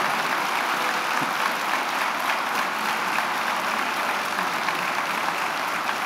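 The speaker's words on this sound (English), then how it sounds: "We'll keep applauding." An audience at an awards recognition ceremony keeps up a long, steady round of applause, dense and even from start to finish, with no voices standing out.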